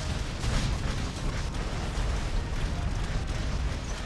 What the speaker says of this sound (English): Somebody launched an airstrike.